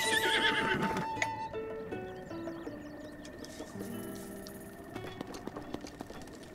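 A horse in The Legend of Zelda: Breath of the Wild whinnies, then a string of synthesized musical tones plays over quiet background, with a few soft hoof-like clops near the end.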